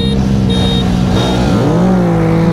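Benelli 600i and KTM RC 390 motorcycles accelerating hard in a race, a loud, continuous engine roar with a rising, shifting pitch, close to the listener.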